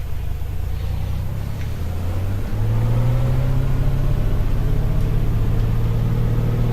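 A2A Simulations Comanche light aircraft engine in a flight simulator throttling up for takeoff, a loud, close droning rumble whose pitch climbs and steadies as power increases, continuous and unbroken.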